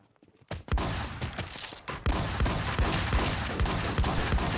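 Rapid automatic gunfire from a shooting video game, loud and continuous bursts after a brief quiet start, with dense repeating shots filling the clip.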